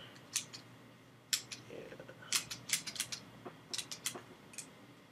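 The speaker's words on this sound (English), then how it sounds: "go ahead and snip" A branch has its nubs snipped off with shears for wand making: a run of crisp, close snips in irregular bursts, several in quick succession, with no talking.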